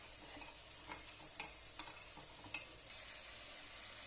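Veg Manchurian fries in a pan with a steady sizzle while a spoon stirs it, giving a few sharp scraping clicks over the constant hiss; no talking.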